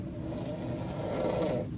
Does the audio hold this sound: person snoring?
yes